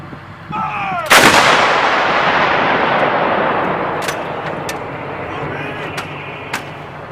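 A Stugna-P anti-tank missile is launched at Russian tanks: one sudden, very loud blast rolls into a long, fading roar that lasts several seconds, with shouted voices just before it.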